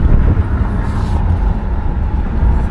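A 1968 Oldsmobile 98's engine and exhaust rumble steadily from inside the car while it is driven, a continuous low drone with road noise mixed in.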